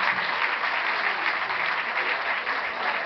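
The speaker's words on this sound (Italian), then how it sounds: "continuiamo con l'applauso" Steady, dense applause from a festival audience, loud and continuous with no break, filling the space evenly.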